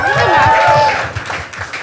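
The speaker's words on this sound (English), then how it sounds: "Round of applause" Audience applause during a casual fun-quiz show, a short burst of crowd clapping with a voice and tonal sound over it, fading slightly toward the end.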